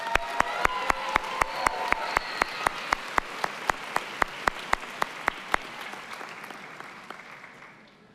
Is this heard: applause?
yes